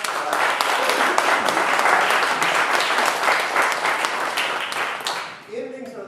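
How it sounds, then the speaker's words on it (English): Audience applause at a live music jam night, loud sustained clapping from a crowd lasting several seconds before fading out as a voice begins. "Give them a round of applause."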